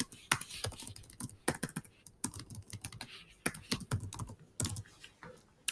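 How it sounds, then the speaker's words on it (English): Typing on a computer keyboard in a quiet room, irregular bursts of clicky keystrokes with short pauses between words, close and moderately loud, no voice over it. "So I can type what I want here."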